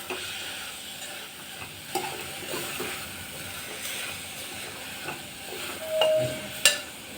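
Rice, soaked toor dal and salt are stirred together in a pot for one-pot sambar rice, soft scraping and shuffling of a spoon with faint sizzle and occasional light knocks, quiet and close, without voices.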